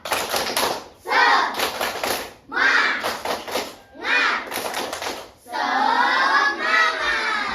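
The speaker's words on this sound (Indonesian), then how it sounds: "Tepuk semangat." A classroom group does a rhythmic spirit clap, with four or five bursts of clapping and chanted voices separated by brief pauses.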